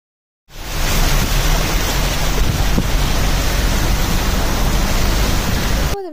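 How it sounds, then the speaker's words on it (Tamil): Rain falls in Muscat, a broad, steady rushing hiss that starts abruptly and continues loudly throughout, with no speech. "இந்த வீடியோவில் மழையோட நேச்சுரல் சவுண்ட் இருக்கட்டும் அப்படின்னு தான் ரோவா விட்டுட்டேன்"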